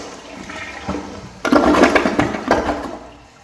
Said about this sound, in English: Let's have a look at some flushes. Let's first do a press and release.